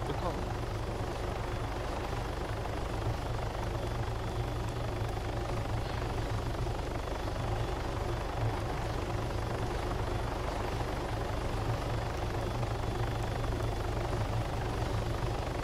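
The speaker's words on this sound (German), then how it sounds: "da kommt auch schon der nächste polnische Hubschrauber, der wahrscheinlich in Deutschland gebaut wurde, und sucht einen Parkplatz" Steady, continuous helicopter rotor and engine drone in the video game Arma 3 Altis Life, loud and unbroken throughout with a dense low thrum, heard alone.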